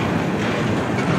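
A Norfolk Southern freight train passes close by, its wheels on the rails producing a dense, steady roar with a faint clickety-clack throughout.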